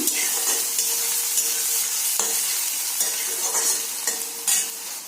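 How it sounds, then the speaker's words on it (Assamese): Garlic fries in oil in a pan along with onion for a fiddlehead fern dish, a bright, steady sizzle punctuated by repeated close scrapes of a stirring spoon, with no voices. "তাৰপিছত এয়া নহৰুখিনি দি দিলোঁ। নহৰুখিনি অকণমান ভজা হ'লে মানে আলুখিনি দি দিম।"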